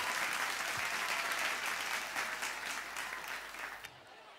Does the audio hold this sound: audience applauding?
yes